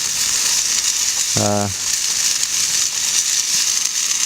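A stir fry crackles and sizzles in a pan at a wild camping spot in the Lake District, a steady close hiss with a brief tonal buzz partway through and occasional speech.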